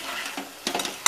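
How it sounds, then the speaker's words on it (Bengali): Potatoes and pointed gourd stirred in spiced oil in a frying pan for a vegetarian fennel-parwal dish, giving a brief scraping stir with light sizzling and a few sharp clinks of a spoon against the pan near the end. "আলুটা আর পটলটা দিয়ে ভালো করে একটু নাড়াচাড়া করে"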